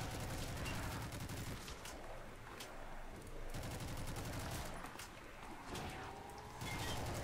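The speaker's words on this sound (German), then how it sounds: "MSMC ballert doch ganz gut" MSMC submachine gun firing in bursts during a World at War zombies game, repeated sustained rattling volleys that stop and restart several times, loud and close.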